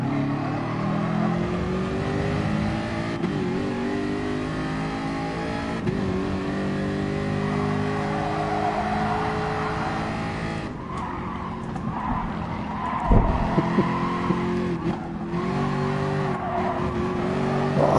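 Porsche race cars in a PS4 racing game roar continuously close by, engines revving and shifting while tyres squeal and skid through corners, with a sharp thud partway through.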